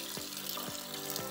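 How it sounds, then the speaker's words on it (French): Sprouted lentils being rinsed in a bowl of water make soft, regular sloshing swishes about every half second, close and fairly quiet over a continuous watery hiss. "je rince une fois pour éliminer toutes les substances indésirables"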